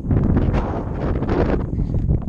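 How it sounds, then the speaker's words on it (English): Heavy wind buffets the microphone during a snowy blizzard outdoors, a loud, continuous rumbling roar with gusty surges and no talk. "This is gonna get to be a lot of wind noise here"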